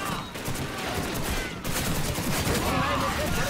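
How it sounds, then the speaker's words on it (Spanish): Dense bursts of rifle and machine-gun fire in a World War II battle from the PC game Call of Duty 2, continuous crackling volleys at a moderate level with no clear speech. "¡Infantería enemiga! ¡Junto al camión! ¡Abran fuego!"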